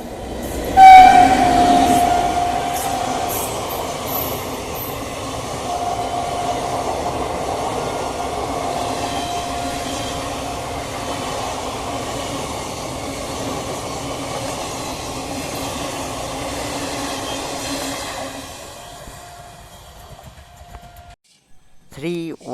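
The 13118 Down Lalgola–Kolkata Dhanadhanya Express passes near Kanchrapara station: a horn blast opens, then a long steady rumble and wheel clatter that fades out after about eighteen seconds, with a brief later horn.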